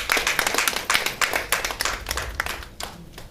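Audience clapping at a church institute service, individual sharp claps in a loose, uneven rhythm from a modest group, fairly close and steady before thinning out near the end.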